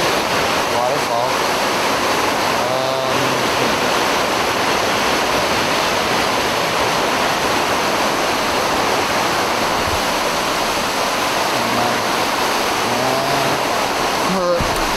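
A waterfall in a cave along the Unity Village trail gives off a constant, loud rushing roar that fills the whole span, with faint traces of voices now and then.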